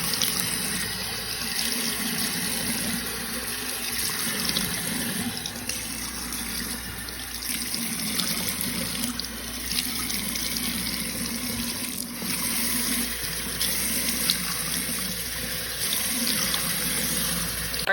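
Water runs steadily from a tap into a bathroom sink while makeup melt is rinsed off a face, a continuous close splashing hiss with no voices.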